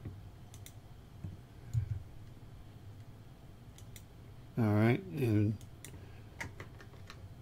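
A computer mouse clicks at a desk while drafting in Chief Architect software, with scattered light taps spread across the stretch, close and quiet, and a person speaks briefly in the middle.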